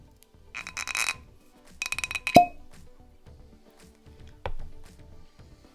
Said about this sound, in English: Okay, let's get the cork popped.